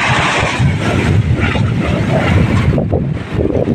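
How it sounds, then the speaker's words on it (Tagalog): Big sea waves and strong wind buffeting a small boat on the open water of Muro Gulf in the Philippine Sea, a loud, continuous roar of wind noise and surging water with no pause. "Malaki po ng mga alon."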